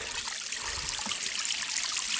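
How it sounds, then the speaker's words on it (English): Water from a desert duck pond fountain trickles and splashes in a steady, continuous stream, close and fairly quiet, with no voices. "In fact, the fountain's still going."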